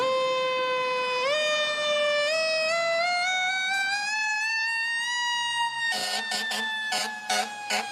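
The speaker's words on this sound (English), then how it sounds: "As we say, it's not a fire truck unless it's got a Q siren." A fire truck's loud mechanical Q siren winds up steadily, its rising wail climbing in pitch, then sharp blasts of an air horn cut in near the end.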